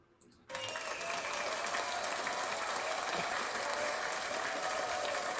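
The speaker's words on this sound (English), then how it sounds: "I had to give myself some rounds of applause and all that good stuff" Sustained applause with some cheering fills the room after a brief quiet start, steady and fairly close, dense clapping from a studio audience for a guest on a talk show.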